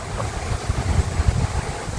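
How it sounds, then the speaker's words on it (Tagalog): Sea waves washing onto the shore in a rural province, a steady broadband wash with soft low rumbling surges, fairly close and unbroken by speech, with some wind buffeting. "yung tunog pa lang ng dagat, talagang magigiliw"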